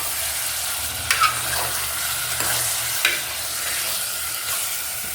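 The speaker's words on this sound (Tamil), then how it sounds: "இதை வந்துட்டு நல்லா மிக்ஸ் பண்ணி விட்டுக்கலாம்." Mutton curry masala sizzles and fries in a pan while being stirred, with a constant hiss of frying and a few scraping clinks from the spoon, close by and with no talking.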